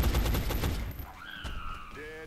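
In XCOM: Enemy Unknown, a rapid burst of gunfire rattles loudly for about a second, then gives way to quieter whooshing and electronic game tones.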